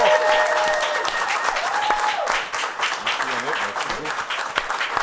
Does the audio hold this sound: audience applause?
yes